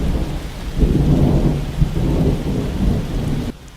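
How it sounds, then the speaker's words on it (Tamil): Sudden rain pours down with low rumbling thunder rolling through it, a dense steady downpour that swells and eases over a few seconds before cutting off abruptly. "அப்போது திடீர்னு மழை வந்துடுச்சு"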